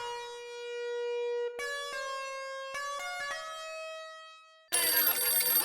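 An electronic phone ringtone plays a bright, stepping melody of pure tones, then cuts off abruptly into louder background noise.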